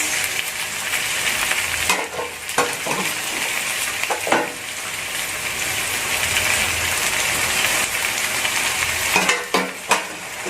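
Meat hits a pan of hot oil for Filipino adobong puti over low heat, giving a loud, steady sizzle and hiss with occasional scrapes and clinks from stirring.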